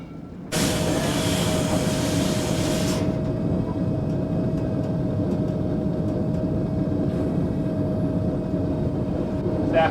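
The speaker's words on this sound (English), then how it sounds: "In order to get on the main line, the train must first back up." The Green Mountain Flyer passenger train backs up from the station toward the main line, a steady loud rumble with a sustained tonal hum, a brief hissing burst at the start and faint clanks over the drone.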